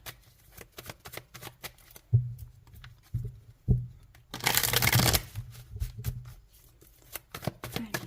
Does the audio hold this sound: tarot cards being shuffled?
yes